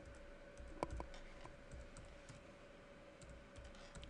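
Light typing on a computer keyboard, a scattering of soft key clicks with one sharper tap early on, close but quiet over a steady low hum.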